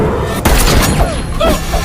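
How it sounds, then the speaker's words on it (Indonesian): A single loud gunshot boom from an Indian action film, a sharp blast followed by lingering echo and background score, with no talk over it. "Dia langsung meluncurkan peluru dan berakhir kematian sang mafia."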